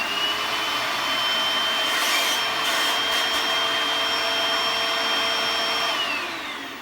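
A Bissell SpotClean carpet cleaner runs indoors with a steady, loud motor whine and airy rush, holding constant for several seconds before starting to wind down near the end.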